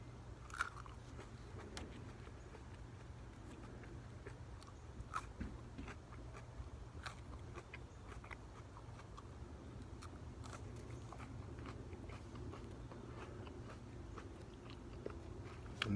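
Crunchy Serpent's Head pepper bitten and chewed close up, a run of faint crisp crunches and mouth sounds spread over a quiet, steady background with no talk.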